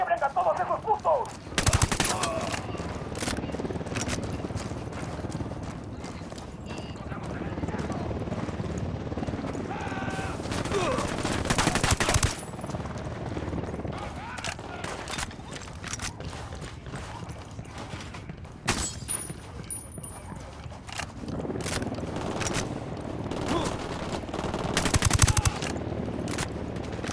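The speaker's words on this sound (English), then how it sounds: "Opening fire." Loud bursts of automatic gunfire and rattling shots in the video game Ghost Recon Wildlands, dense and continuous with sharp volleys throughout, mixed with game sounds.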